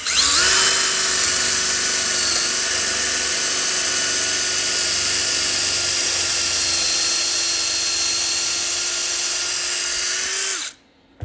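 Close, loud drill with a broken drill bit boring a hole, one long continuous high whine at steady speed for about ten seconds before stopping abruptly.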